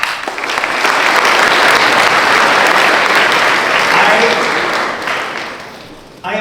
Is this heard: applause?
yes